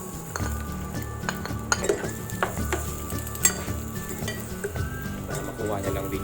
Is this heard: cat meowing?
no